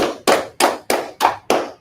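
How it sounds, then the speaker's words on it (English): Six sharp hand claps in an even, steady rhythm, each crisp and close with a short decay, and no voices over them. "Let's clap it up."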